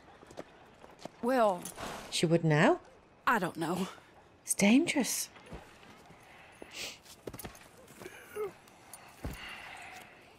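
Hooves of a large horse clip-clopping at a walk in the Red Dead Redemption 2 video game, soft rhythmic steps running beneath a conversation between characters.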